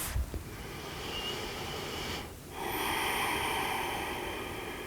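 Slow breathing during a gentle spine movement exercise: a long audible exhale fades, a short pause follows, then a steady airy inhale comes close to the mic.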